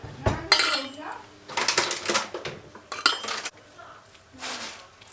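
Water börek is cut in a metal baking tray, giving a series of sharp clinks and scrapes of a utensil against the pan in irregular bursts, close by, with faint voices in between.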